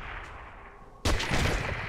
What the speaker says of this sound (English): whenever he shoots, you can hear the bullets flying around you